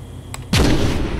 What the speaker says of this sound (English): there's also a sound effect for when you destroy a force field